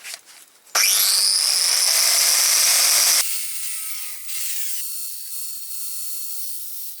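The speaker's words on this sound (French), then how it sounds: "il faut que je meule de chaque côté de l'encoche pour ne garder que 7 mm" A grinder cutting a notch in the pulley of a 1955 Panhard Dyna Z1 engine, a loud high whine that spins up abruptly, grinds steadily, then drops to a lower fading spin-down, close by with no talk.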